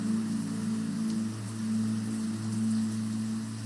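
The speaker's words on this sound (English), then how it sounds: "it's so relaxing just listening to the rain." Steady rain falls on leaves overhead in an outdoor spot, a constant soft patter and hiss with a faint low hum beneath, no voices.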